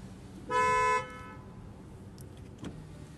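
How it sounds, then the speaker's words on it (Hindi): Hyundai Verna SX(O) IVT car horn giving one short, loud, steady honk of about half a second, followed by quiet cabin ambience and a faint click. "इसमें आपको कुछ इस तरह का हॉर्न मिलेगा।"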